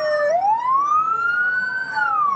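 Ambulance siren from a convoy of vehicles carrying crash victims to a regional hospital, a single loud wailing tone sweeping slowly upward and holding steady, close and continuous with no talk.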